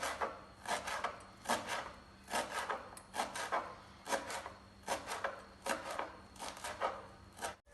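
A knife chopping onion, coriander leaves and curry leaves very fine on a wooden board, with rhythmic rocking strokes in repeated bursts, close and quiet, with no talking.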